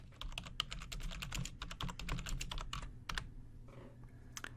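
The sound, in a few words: typing on a computer keyboard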